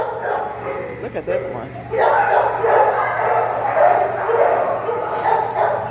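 Pit bulls at an animal shelter barking and yipping in a busy, overlapping chorus that starts after a couple of seconds and continues steadily, with someone talking close over the noise.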